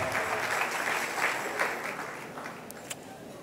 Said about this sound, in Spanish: Le damos un aplauso al Rey bendito.